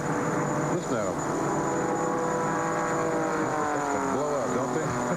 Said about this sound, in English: I guess is about the best way I can describe the noise coming out of these cars